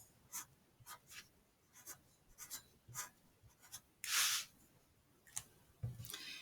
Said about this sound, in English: I'm going to take my marker and I'm going to write